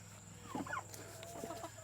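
Backyard chickens cluck in short, soft bursts at close range over a constant low hum. No voices can be heard.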